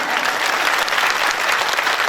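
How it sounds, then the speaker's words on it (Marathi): Loud, steady applause from a seated audience at a Shivjayanti kirtan led by Mauli Maharaj Pathade, a dense wash of clapping hands sustained throughout without a break. "राज टाळ्या सगळ्यांनी वाजवा, जरा जोरात वाजवा"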